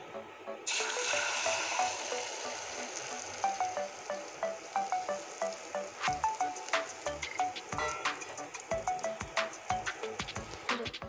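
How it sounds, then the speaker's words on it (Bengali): Beaten egg mixture fries in hot oil in a pan. Close, continuous sizzling swells into busy, rhythmic crackling and popping over about eleven seconds, with no clear talking. "এই ঘোলটা আগে প্রথমে ভেজে নিচ্ছি আমি। এখন তেলের উপরে ছেড়ে দিচ্ছি।"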